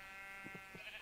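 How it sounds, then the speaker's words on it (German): A brown sheep in the video game Minecraft gives a faint, short bleat, with quick pulses over a quiet background. "Oh, ein braunes Schaf."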